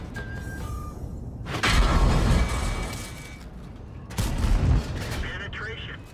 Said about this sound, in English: He's firing high explosive.